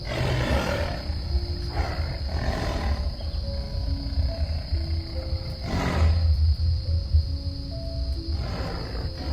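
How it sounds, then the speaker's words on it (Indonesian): Edited tiger roar sound effect set on a mountain hiking trail, deep rumbling growls rising and falling over a steady high-pitched hiss, with no voices present. "suara macan itu ya"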